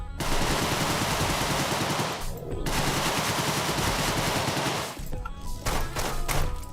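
Tommy gun in the Deadbolt video game firing long continuous automatic bursts, loud and close, with a brief pause near two seconds and a short break near five seconds before the firing resumes.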